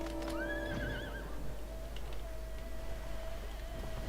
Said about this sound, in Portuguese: Mais vale pegar logo um cavalinho.